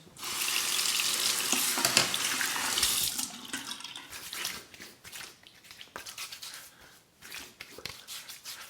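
Tap water runs hard over a safety razor for about three seconds, a loud close hiss, then breaks into softer, uneven splashing and trickling as the blade is rinsed.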